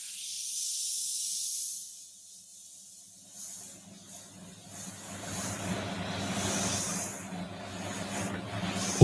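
An airbrush spraying paint while painting an eagle, heard as a breathy hiss that starts alone, then continues under a rising wash of workshop noise and low rumble.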